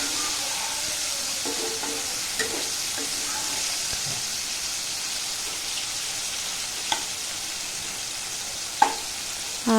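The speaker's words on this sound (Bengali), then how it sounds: "উচ্ছেগুলো ভেজে নিই, তারপরে মাছ রান্না করব।" Bitter gourd fries in a pan with a steady, close sizzle and crackle, while a utensil stirs and taps against the pan now and then, with no voices.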